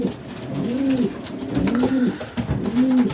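Racing pigeons coo in a loft at the close of an old-bird racing season, three repeated rising-and-falling coos spaced about a second apart, close and clear over soft background rustle.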